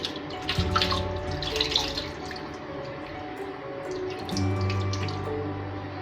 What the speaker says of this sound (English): So now I'm going to rinse this off with lukewarm water.